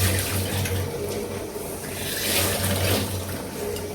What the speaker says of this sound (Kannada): ಆನಿಯನ್ನ ಕ್ಲೀನಾಗಿ ತೊಳ್ಕೊಬೇಕು ಅಷ್ಟೇ.